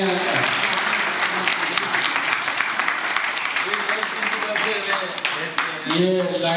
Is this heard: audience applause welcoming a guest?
yes